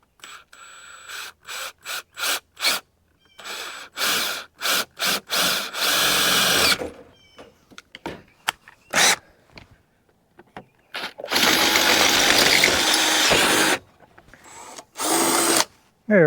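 Power drill boring a hole through a heat press, in repeated short bursts then longer sustained grinding runs, close and loud, with pauses of quiet handling between.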